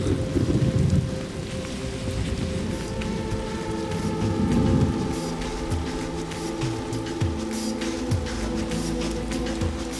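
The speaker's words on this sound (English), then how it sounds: "I could get hypothermic now if I don't stay dry, which the rain's here now" Heavy rain falling in the boreal forest of northern Ontario, a dense continuous hiss with low rumbling underneath and a few steady tonal hums, heard alone without voices.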